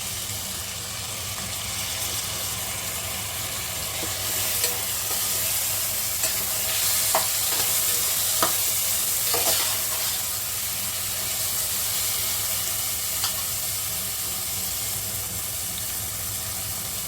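Ginger garlic paste, potatoes and lentils frying in a pan for quick masoor rice, giving a steady close sizzle and hiss throughout, with a few light clinks of stirring and no talk.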